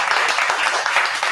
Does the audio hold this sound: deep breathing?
no